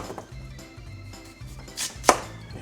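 A knife chops radish into cubes for kkakdugi, a series of soft, evenly spaced thuds on a cutting board, then a brighter, crisper knock near the end. No one speaks.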